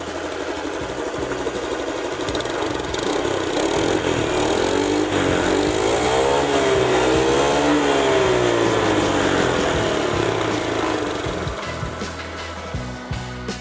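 Honda Scoopy scooter with a rebuilt engine and new piston, revved high in a workshop, a loud buzzing whine that climbs and falls in pitch, held steady for several seconds before easing off.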